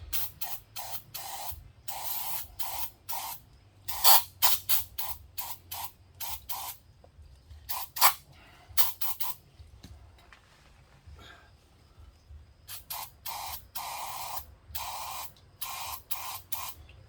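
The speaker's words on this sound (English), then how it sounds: "I'm going to give this a little spray down to soften up some of this stuff." Repeated short bursts of hissing spray from a bottle of cleaner onto a car wheel bearing, some in quick clusters and others spaced apart, with quiet pauses between.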